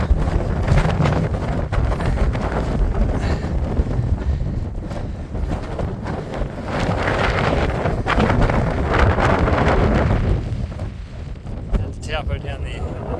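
Strong wind batters the microphone on a mountain summit, a loud continuous roar and buffeting that lasts throughout with little let-up.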